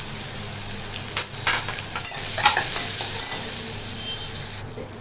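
Curry leaves, green chili and finely chopped onion fry in a hot pan for a banda root vegetable dish. A steady close sizzle runs with scraping stirs, then cuts off near the end.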